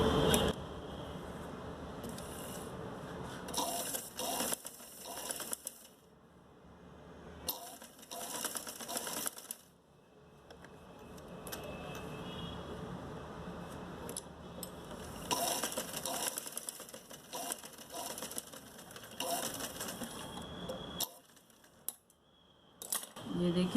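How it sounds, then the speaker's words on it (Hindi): A sewing machine double-stitches a strip onto a round neckline, running in long bursts of fast, clattering mechanical chatter broken by short pauses. "इसके ऊपर डबल सिलाई करके इस पट्टी को जॉइंट करेंगे"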